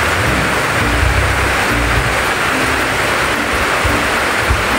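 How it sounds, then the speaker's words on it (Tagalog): Heavy rain pours steadily and loudly outdoors near a house, a dense unbroken wash of noise throughout, with a faint low rumble underneath. "ang lakas ng ulan"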